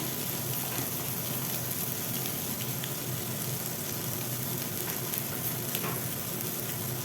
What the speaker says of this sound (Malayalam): കടലപ്പൊടി ചേർത്തിട്ട് നന്നായിട്ടൊന്ന് മിക്സ് ചെയ്ത് കൊടുക്കുക